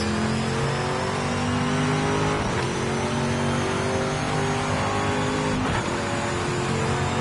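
A race car in Project Motor Racing revs hard and accelerates toward a wall, its engine note rising steadily through gear changes, loud and close with no talk.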